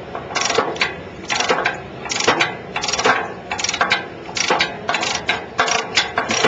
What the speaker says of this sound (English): All that I'm going to do is just turn this ratchet.